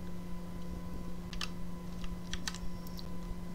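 Crisp mouse clicks during video editing work, a handful of sharp, close ticks scattered across a few seconds over a steady electrical hum, with no talking.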